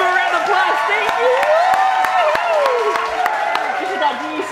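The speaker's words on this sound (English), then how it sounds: "everyone give her a round of applause" A sparse round of applause in a home setting, with a few evenly spaced handclaps ringing out while a voice talks loudly over them.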